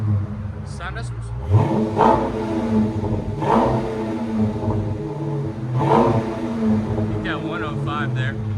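A Dodge Challenger Scat Pack 6.4L HEMI V8 fitted with an aftermarket exhaust revs repeatedly, giving three or four loud, deep throaty blips over a steady idle rumble. People talk in the background between revs.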